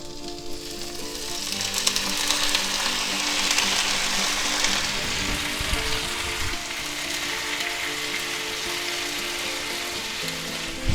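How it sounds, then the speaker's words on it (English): Broccoli florets hit a hot oiled pan for a chicken and mushroom stir fry, raising a loud, steady sizzle that crackles continuously and close up from start to finish. "Now we're going to take our nice broccoli here and we're going to put them right in there."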